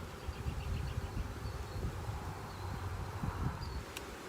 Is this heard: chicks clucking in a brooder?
no